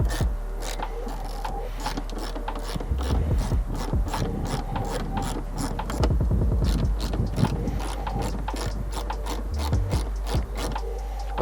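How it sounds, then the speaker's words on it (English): Ratchet with a 10mm socket removing the fender liner bolts on a Toyota 4Runner, a steady stream of quick, loud, close clicking that keeps up throughout with no talk. "So all 5 of these bolts are going to be removed with a 10mm socket."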